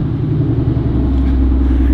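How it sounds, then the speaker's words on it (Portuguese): A Mercedes-AMG V8 engine rumbles steadily up close after starting, a deep, continuous low growl with no voices over it. "vamos ligar para já deixar o carro esquentando"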